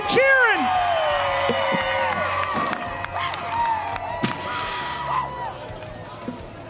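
A lively arena crowd at a STIHL Timbersports lumberjack competition cheers and shouts continuously, with whoops, whistles and scattered claps, and an announcer's amplified voice cutting through.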